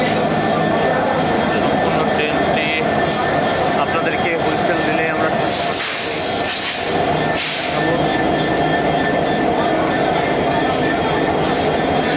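Jahanabad Express passenger train from Khulna on its inaugural run, a steady loud rumble of railcars and locomotive continuing throughout, with brief dips and a crowd of voices talking over it.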